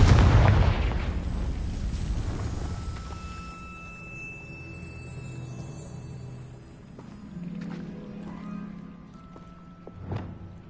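In the Hogwarts Legacy video game, the Confringo explosive spell goes off with a loud, close blast, then a long rumbling decay with faint tonal game effects and a smaller pop near the end.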